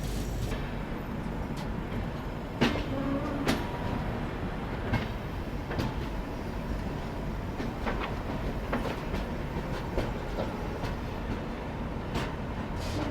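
The Rameshwaram Banaras Express runs along the rails, a steady rumble with recurring clickety-clack wheel beats and occasional sharp clanks, heard from inside the moving train.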